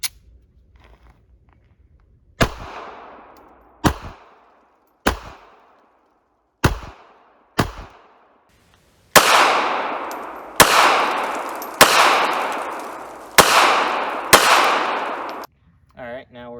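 Ten sharp pistol shots from a Ruger LCP Custom .380, fired at uneven intervals outdoors, each crack followed by a short ringing decay, with later shots louder and closer together.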